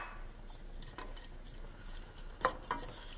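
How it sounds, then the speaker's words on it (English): Sliced onions frying in oil in a pan over a medium-high flame for a coconut shrimp curry, giving a faint steady sizzle with a couple of sharp utensil clinks near the end. "See, as the onion is frying like this"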